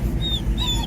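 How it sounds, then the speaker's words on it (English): A dog whimpers and yips in short high whines, faint over steady low rumble from a train ride through the tunnel under the sea from the UK to Calais, France. "Hey, calm down, dog, calm down."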